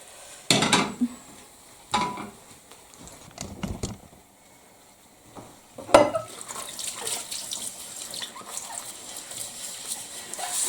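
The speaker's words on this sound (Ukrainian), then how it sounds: "то я помию за той час посуд" Running tap water with intermittent clatter of dishes being handled in a sink, a few sharp knocks early on, then steady splashing and rinsing.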